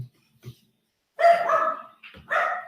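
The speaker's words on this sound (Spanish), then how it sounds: "Una disculpa por mi perrita." A small female dog barks twice indoors, two loud, close yips a moment apart, after a few faint soft sounds in an otherwise quiet room.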